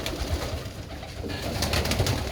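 Birmingham Roller pigeons coo inside a loft, soft burbling calls repeating over a low background rustle, close and steady throughout.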